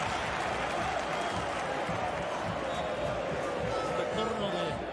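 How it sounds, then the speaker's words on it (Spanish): A football stadium crowd in Ñuñoa roars in a sustained ovation for a returning player's entrance during a superclásico, a dense, steady wall of cheering and applause with a commentator talking over it. "Y ahí está el ingreso, la ovación del estadio"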